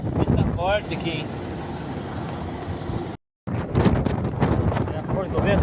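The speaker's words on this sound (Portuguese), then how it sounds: "O vento tá forte aqui, hein?" Strong wind in São Francisco do Sul, near the sea, buffeting the microphone as a steady rushing roar, heard under someone speaking, with a short dropout midway.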